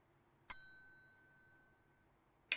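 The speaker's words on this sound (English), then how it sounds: "just ring the bell and I'll help you out again" A shop bell in the VR game Area Man Lives gives one bright, clear metallic ring whose tone lingers about a second and a half before fading, then a second strike starts right at the end. No talking.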